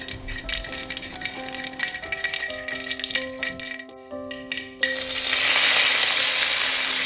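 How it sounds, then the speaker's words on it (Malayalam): Mustard seeds splutter and crackle in hot coconut oil in a pan, a loud busy sizzle with scattered pops and stirring clatter that swells into a denser hiss near the end; no one speaks. "ഒരു രണ്ട് ടേബിൾ സ്പൂൺ വെളിച്ചെണ്ണയും കൂടെ ഒരു ടീസ്പൂൺ കടുകും കൂടി ഇങ്ങോട്ട് ഇട്ടിട്ട് പൊത്തിപ്പൊരിഞ്ഞിങ്ങോട്ട് വന്നാൽ"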